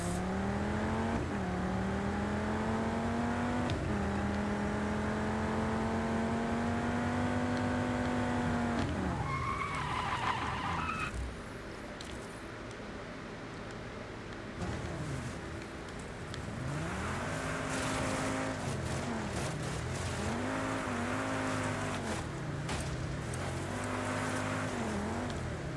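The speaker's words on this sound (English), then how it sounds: "Would you stop drifting and just drive?" Car drifting and skidding in Just Cause 4, with a loud revving engine rising and falling under sustained tire squeal through sweeping slides, continuous and close.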